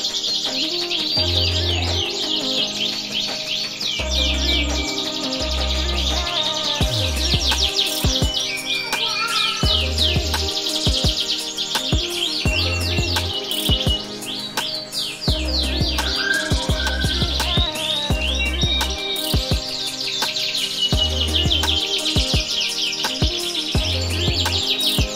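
Canaries kept by a hobbyist breeder sing continuously, with dense, bright trills and chirps layered over steady low rhythmic thumps throughout, loud and close with no talking.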